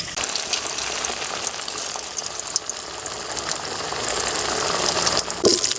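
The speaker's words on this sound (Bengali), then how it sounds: "একই ভাতে সব ব্যাগগুলো ভেজে নেব" Semolina sweets fry in a pan of hot oil, giving a steady loud bubbling hiss that swells slightly toward the end, with no talking.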